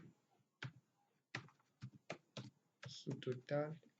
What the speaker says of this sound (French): Vous mettez encore égal sur le clavier